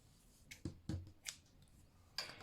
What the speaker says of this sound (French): Je peux couper le fil.